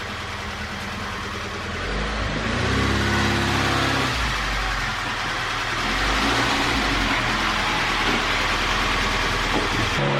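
A Mk1 Volkswagen Golf engine runs loud and close, idling then revving up and settling back as the car is pulled in, a steady mid-pitched drone with no voices.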